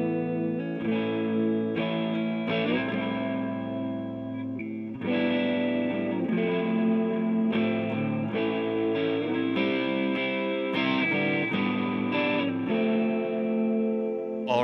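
Electric guitar plays chord shapes over ringing pedal tones, sustained and heavily effected with chorus, distortion and reverb, chords changing steadily with no voices.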